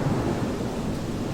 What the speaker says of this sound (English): Sorry about the thunder.